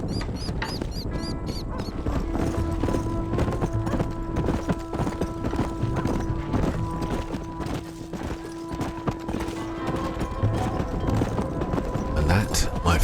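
Horses trot in Red Dead Redemption 2, a steady clip-clop of hooves close by, running under voices and game sounds from start to finish.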